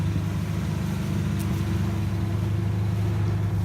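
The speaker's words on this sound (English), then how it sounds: "Car is running right now." A car engine runs at a steady idle after repairs to its fan, belts and a leaking power steering fitting, a continuous low rumble heard close up with no other sounds.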